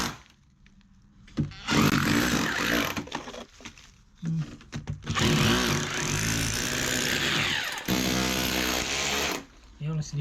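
Power drill with a chisel bit chasing a wall for 15mm pipe, loud harsh hammering bursts that start and stop several times, with gaps between them.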